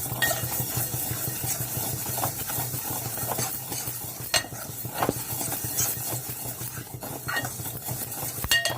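Moong dal being stirred and roasted in a pan, a continuous scraping stir of spoon against metal with a soft sizzle and occasional sharper clinks, close and steady throughout.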